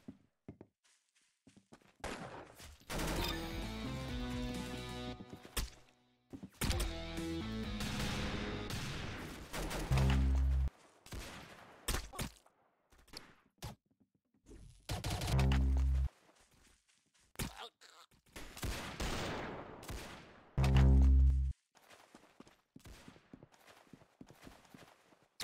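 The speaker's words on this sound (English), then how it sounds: "Very good shooting." Gunfire in the Roblox game Arsenal: several separate bursts of sharp, punchy shots with heavy low thumps, spread through the stretch with quieter game noise and gaps between them.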